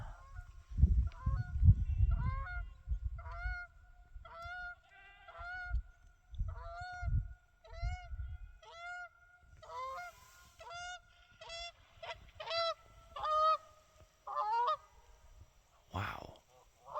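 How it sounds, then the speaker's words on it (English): A duck in a large valley gives a long series of loud, repeated honking quacks that ring out with a clear echo, some near and some farther off, after low rumbling thumps at the start. "That duck has an echo."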